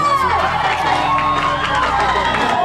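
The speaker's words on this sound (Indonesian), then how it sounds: "Berikan tepuk tangan kepada calon nomor urut 4" An audience at a school student council candidates' debate cheers and claps for a candidate, a loud crowd roar with shouts and music playing underneath.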